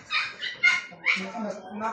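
A dog gives several high whimpering yelps and whines in quick succession, fairly close, with some background voices mixed in.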